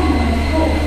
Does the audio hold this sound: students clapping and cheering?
no